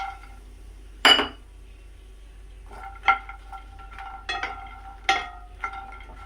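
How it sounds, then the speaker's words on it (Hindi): Makhana (fox nuts) tipped into hot ghee in a pan: a sharp clatter as they drop in, then several shorter scraping stirs and clinks against the pan, with a faint steady sizzle underneath and no talking. "तो डालते हैं मखाना"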